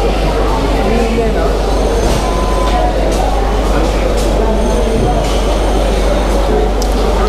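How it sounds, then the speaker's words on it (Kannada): A passenger train pulls into a railway station, a steady loud rumble and clatter of rail noise filling the whole stretch with occasional sharper knocks. "ಅಲ್ಲಿ ನೋಡಿ ನಮ್ಮ ಟ್ರೈನ್ ಬಂದಿದೆ."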